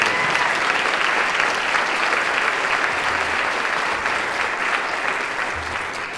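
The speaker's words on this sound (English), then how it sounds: "So let's give our board a round of applause for their." A crowd gives a sustained, loud round of applause for a county Board of Commissioners at an indoor civic address, steady clapping that fades slightly toward the end.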